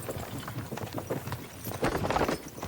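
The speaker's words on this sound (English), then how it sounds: "Dá pra você parar o cavalo" Horse hooves clip-clop in Kingdom Come: Deliverance II, a quick, uneven run of soft thuds at moderate distance that grows a little busier toward the end.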